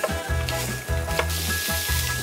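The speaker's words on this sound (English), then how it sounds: "Yeah, that sizzle." Bolognese sizzles hard in a hot pan on the stove: a close, steady, crackling hiss with low scraping surges repeating about every half second as the sauce is stirred.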